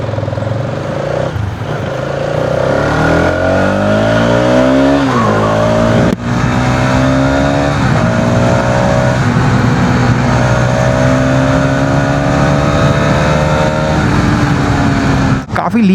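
A motorcycle on a test ride accelerates hard through the gears, loud engine revs climbing and dropping with each shift, close and continuous for the whole stretch with wind rush.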